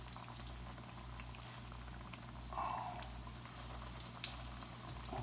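Leftover Thanksgiving croquettes shallow frying in oil that only partly covers them, giving a steady, close sizzle and crackle with a brief louder hiss midway and scattered pops.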